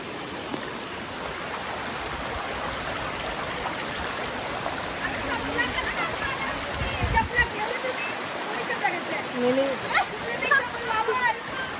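Mountain stream water at a farmhouse flows in a continuous rushing wash, with voices talking intermittently over the steady flow.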